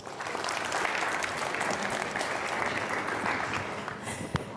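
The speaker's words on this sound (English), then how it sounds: "Ladies and gentlemen, one more round of applause." Steady applause from a conference audience at the Munich Security Conference, dense and continuous for several seconds with a single sharper clap near the end.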